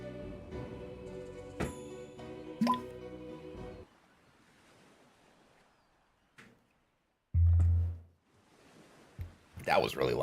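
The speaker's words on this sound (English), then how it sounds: "I hit my mic stand with my water." A water bottle knocking against a microphone stand, heard as a sudden loud low thump partway through after quieter stretches, with talk and other sounds earlier and a clatter of noise at the end.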